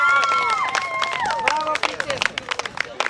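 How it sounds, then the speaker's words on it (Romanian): An audience at a recital in Birsanesti claps and cheers, with scattered applause mixed with shouting voices and crowd chatter that thins toward the end. "Aplauze!"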